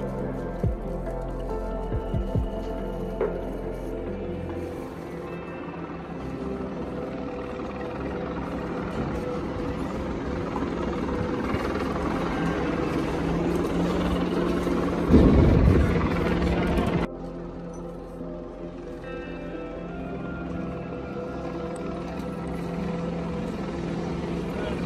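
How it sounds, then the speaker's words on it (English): A news helicopter passes over a homeless encampment cleanup at Venice Beach, California, its steady low rotor thrum building to a louder peak before cutting to a fainter drone, with outdoor noise around it. "Helicopter, news helicopter, news helicopter."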